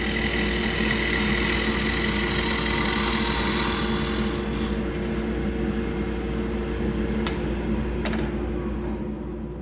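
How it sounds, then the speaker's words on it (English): A steady hum of a wood lathe spinning a small tool handle blank, with a 3/8 inch skew chisel taking a planing cut along the cylinder, a continuous close whirr with faint scraping texture throughout. "shoring up the cylinder with a planing cut from my 3/8 inch skew"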